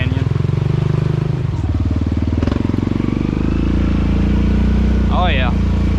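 A Honda Rancher ATV fitted with Assassinators churns through thick, nasty clay, its engine a close, rough pulsing drone that rises and then settles into a steady hum while a person talks over it.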